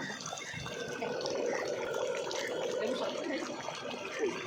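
Water is poured in a small amount into a pot of cooking meat and yogurt, a steady close pouring and splashing sound, with a person speaking over it.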